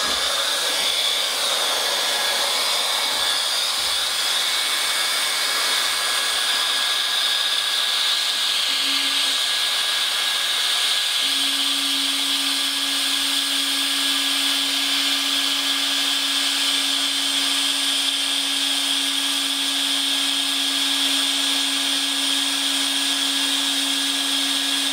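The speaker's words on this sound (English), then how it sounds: "Just a little bit of pressure on the welding rod," Hot-air plastic welder with a plastic welding rod runs as a steady, loud blowing hiss throughout, with a sustained low tonal hum coming in partway and continuing alone, no talk.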